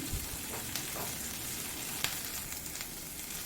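Capsicum fries in a pan over a high flame, making a continuous loud sizzle with a few light stirring scrapes and one crisp tap, with no voices.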